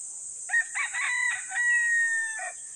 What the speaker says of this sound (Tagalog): Ito yung labuyo sa lugar na yung mga idol.